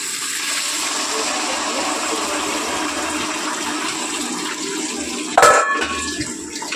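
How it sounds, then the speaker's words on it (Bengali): Meat boiling stock pours into a cooking pot in a continuous watery rush and splash, with a brief clatter near the end. "মাংস সেদ্ধ করার যে জলটা আছে স্টকটা সেটাই দেবো।"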